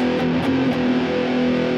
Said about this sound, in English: I've got a little bit of extra distortion on it, and then I put a little bit of delay on it